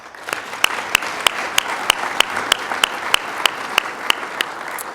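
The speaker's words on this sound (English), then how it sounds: "Please join me in giving them a round of applause." Sparse, evenly spaced claps ring out from an audience at a fall 2019 university graduation salute, moderately loud over a soft room murmur.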